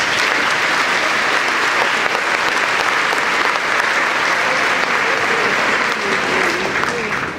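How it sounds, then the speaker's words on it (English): A graduation ceremony audience gives loud, sustained, even applause that continues without pause before ending abruptly. "We have a round of applause for all those folks"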